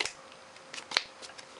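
A trading card deck is hand-shuffled at close range, giving a few soft, quiet riffling and flicking bursts with faint clicks, no voices.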